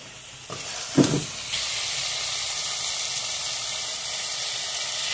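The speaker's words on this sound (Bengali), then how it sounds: "এখন আমি একে একে সবজিগুলো দিয়ে দেব" Vegetables hit a hot pan of browned chicken curry with a sharp clatter and burst of sizzle, then a steady hissing fry continues, close and even, without talk.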